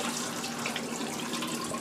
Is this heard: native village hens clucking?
no